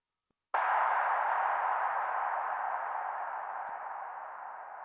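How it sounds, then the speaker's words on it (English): A single sharp processed clap hit blooms into a long, bright reverb and delay tail, filtered and sustained for several seconds after a brief silence, used as a transition impact in an Afro House remix. "This is just a normal clap that I put a bunch of reverb on and delay"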